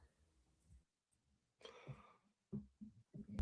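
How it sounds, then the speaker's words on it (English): A few short, quiet coughs or throat clears come in quick bursts near the end, following a soft muffled sound and near silence. "Sorry, I had a cough."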